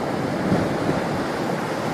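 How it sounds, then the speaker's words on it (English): Heavy storm surf from Winter Storm Hercules pounds the beaches below Third Cliff in Scituate, Massachusetts, a dense, continuous roar of breaking waves mixed with wind buffeting the microphone, loud and steady with no voices. "The storm continues to pound the Third Cliff beaches and cut this new channel into the North River."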